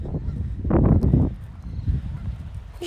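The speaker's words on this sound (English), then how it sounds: "Yeah, be nice, goose." A goose by a river honks loudly and close by, a cluster of harsh calls followed by a quieter honk, with breezy wind in the background.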